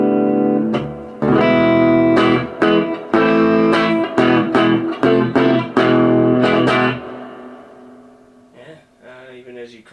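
An electric guitar played through a Peavey Classic 50 amp with its tone breaking up: loud, crunchy strummed chords ring out in a rhythmic burst, then trail off into a few quieter picked notes.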